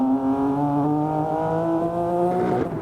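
A BMW M4 in a racing video game revs hard, its engine note holding a loud, buzzy, high-rpm tone that wavers unevenly before dipping briefly at the end.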